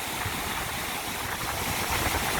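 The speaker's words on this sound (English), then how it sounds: "There's loads of little waterfalls" Small waterfalls tumble down a steep coastal slope along the NC500 in the Scottish Highlands, giving a steady, broadband rush of falling water that stays even and continuous throughout, with no voices.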